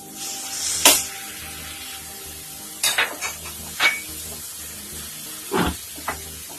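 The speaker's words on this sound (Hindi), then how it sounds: "ये सबको 2-3 मिनट तक हम फ्राई करेंगे।" Ginger, green chilli, capsicum and tomato fry in a pan for anda bhurji, a soft sizzle broken by several sharp spatula scrapes and clanks against the pan, with no voices.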